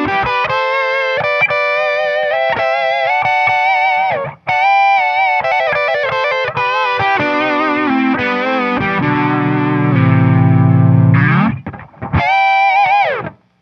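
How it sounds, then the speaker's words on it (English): Distorted electric guitar harmony routed through a Line 6 Helix and split between separate speakers, sustained layered lead lines with effects and a rising pitch bend near the end, loud and without talk. "So instead of sounding like a mushy guitar harmony all going through my main amp, I have it separated through each of the speakers."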